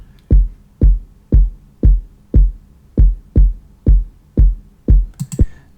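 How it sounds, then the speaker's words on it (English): A low, thudding electronic kick drum with the high end cut by EQ hits about ten times in a steady, evenly spaced rhythm, loud and dry, ending with a brief burst of higher noise. "So the first thing I've got going on here is the kick, which sounds like this."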